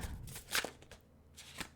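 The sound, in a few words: shuffling tarot cards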